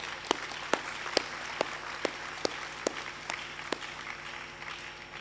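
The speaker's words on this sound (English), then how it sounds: "Applaud yourselves." Newly matriculated university students at a matriculation ceremony clap for themselves in a dense, distant wash of applause, with a few sharper, closer claps standing out at a steady rhythm across the whole clip.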